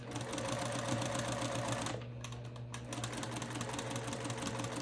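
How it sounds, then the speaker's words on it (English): A sewing machine stitches curved fabric edges with a steady, loud mechanical whir. The sound dips briefly in the middle, then resumes its constant rapid rhythm, with no speech. "Sew a couple stitches, and then as it feeds, bring the curved edges together."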